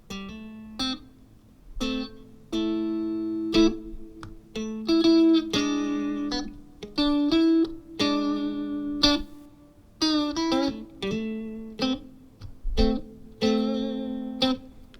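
Clean electric guitar notes and chords through a Fender Champion 50XL amplifier played in short phrases, each trailing off into a long, washy reverb tail that fills the gaps between strums.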